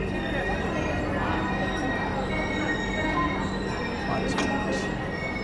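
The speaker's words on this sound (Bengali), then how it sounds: "সেই সাতনা জংশনে আমাদের এই ট্রেন এখন ঢুকে পড়ল।" The Howrah–Mumbai Mail rolls into Satna Junction, a loud, continuous rumble of wheels on rails with a steady tone and faint squeals near the end.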